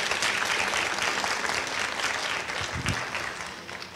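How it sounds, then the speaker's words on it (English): Audience applause fills a district spelling bee hall, sustained steady clapping from a crowd for the student spellers, loud and continuous, tapering slightly at the end. "let's give them another round of applause for all of our students"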